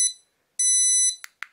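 Built-in speaker of a Belladeal bicycle tail light giving two sharp electronic beeps, a short one then a half-second tone, followed by two quick clicks, close and clear with no talk.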